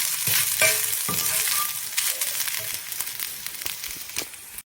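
Grated coconut with raisins and cloves fries in a pan for sweet aval, giving a soft continuous sizzle broken by repeated scraping stirs of a spoon against the pan.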